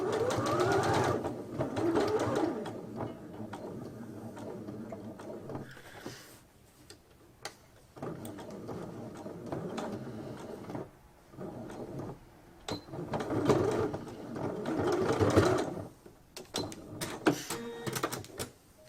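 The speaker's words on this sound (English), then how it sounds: "we're still just continuing with the 1 centimetre seam" A sewing machine stitches a seam on a fabric face mask in rapid mechanical bursts, starting and stopping several times with short pauses between runs, heard up close.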